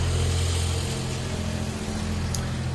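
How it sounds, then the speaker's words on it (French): Cars passing on a nearby street, heard as a steady, loud low engine rumble and broad traffic noise throughout, with no talking. "Il y a les voitures qui passent souvent là, ça fait trop de bruit."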